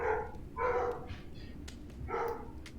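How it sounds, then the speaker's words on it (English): Several dogs bark in short bursts, three clear volleys spaced about a second apart, fairly close and loud over a low background rumble, with no one talking. "I'm sorry, the dogs are a little."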